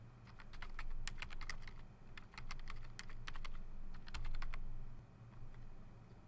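Steady, close typing on a computer keyboard as comments are entered into a pediatric electronic health record, quick clustered keystrokes over a low background hum with brief gaps.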